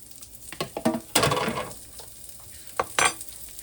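Onions and shallots fry in a hot pan for German venison tenderloin cooking, with close sizzling and a few louder bursts and clatters as they are stirred, no talk.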